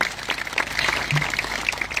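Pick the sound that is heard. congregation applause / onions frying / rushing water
congregation applause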